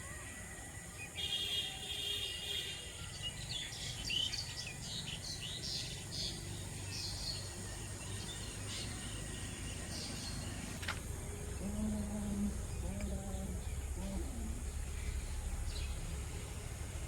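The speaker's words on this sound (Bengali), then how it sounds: "আর সকালবেলায় পাখিতে কিচিরমিচির করে" Birds chirp faintly in a rural village in the morning, with scattered high twitters over a steady wash of insect and outdoor background noise.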